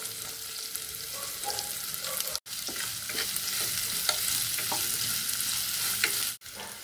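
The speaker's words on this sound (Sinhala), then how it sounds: "ඉස්සු කරවල එක තෙලේ ටිකක් බෙදෙන්න ඇරලා ඒකට එකතු කරගන්නවා අපි කපාගත්තු පොඩියට කපාගත්තු සුදු" Dried shrimp and onions frying in hot oil with steady sizzling and occasional stirring scrapes, close and continuous, with no speech.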